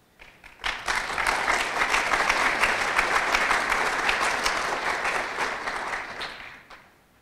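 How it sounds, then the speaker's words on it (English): Audience applause at a state government closing-remarks event, a sustained broad wash of many hands clapping that swells in quickly, holds steady for several seconds and fades out near the end, with no talk over it. "I want to hear a good applause."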